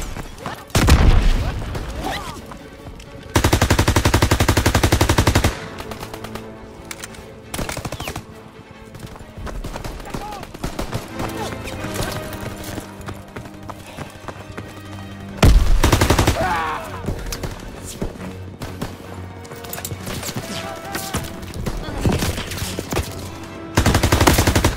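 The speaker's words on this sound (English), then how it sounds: "They're shelling that beach to shit." Heavy gunfire and artillery shelling pound the D-Day beach landing in the Call of Duty WWII video game campaign, with loud booming blasts, rapid machine-gun bursts and continuous chaotic battle noise throughout.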